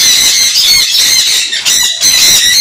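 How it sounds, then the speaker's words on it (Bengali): A male red sun conure at a bird farm squawks loudly and harshly at close range, with shrill repeated cries broken by short pauses. "একটা রেড সান রয়েছে, দেখতে পাচ্ছেন এদিকে।"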